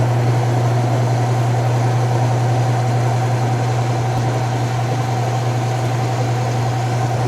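An empty Kenmore 80 Series washer runs in its spin cycle, giving a steady, continuous mechanical hum with a strong low drone that holds even and unbroken throughout, with no voices.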